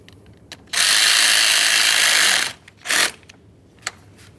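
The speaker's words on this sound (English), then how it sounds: "tighten our 10mm mounting nut" A hand ratchet tightens a 10mm battery terminal mounting nut on a 2015-2020 Ford F-150, giving one long rapid clicking run of nearly two seconds, then a shorter burst and a single click, close up and alone.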